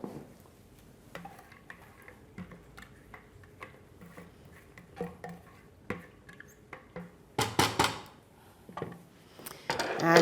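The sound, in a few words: adding Seville orange peel to liquid in a pan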